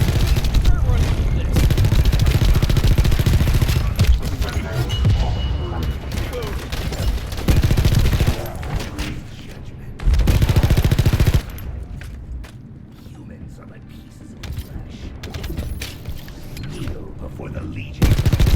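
Gunfire in the video game The First Descendant: loud, sustained bursts of rapid automatic shots and blasts, broken by short pauses and quieter stretches, with a voice talking over parts of it.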